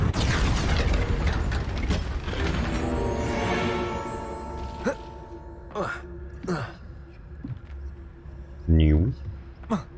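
Confringo fire spell cast in Hogwarts Legacy, heard as a rumbling blast that swells and fades, followed by several sharp cracking impacts and a final heavy burst, with game effects ringing through it.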